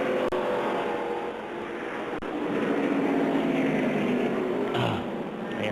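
A NASCAR stock car out on the track, with a steady engine roar and a faint higher whine near the end. Broadband noise runs throughout at moderate loudness, and no voices are heard.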